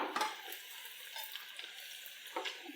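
Meal maker snacks frying in a kadai while being turned, a soft continuous sizzle broken by several light scrapes and stirs of a spoon, quiet and close.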